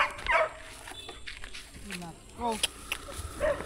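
A dog barks and yips a few times amid excited people talking nearby, with footsteps in the background.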